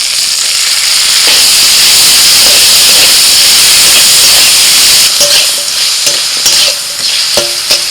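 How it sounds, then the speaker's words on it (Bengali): Fried crab with freshly added onion fries in a pan, a loud continuous hissing sizzle close up, later broken by clicks and scrapes of stirring. "কাঁকড়া ভাজা হয়ে গেছে দিয়ে দিচ্ছি ফেঁটো করা পেঁয়াজ"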